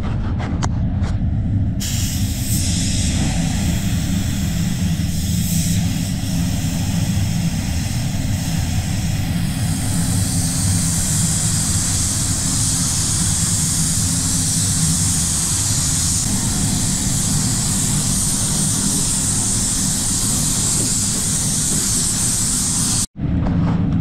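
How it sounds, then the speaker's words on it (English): A spray gun lays wet-on-wet primer onto an Isuzu D-Max bonnet in a paint booth, a steady, loud, continuous hiss and roar of air that runs without break for the whole stretch, cutting out only for an instant near the end. "Now I'll get the wet on wet primer onto this bonnet."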